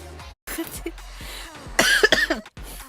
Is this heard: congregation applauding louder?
no